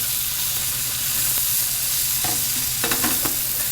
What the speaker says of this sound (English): you can go ahead and add your steak back into the pan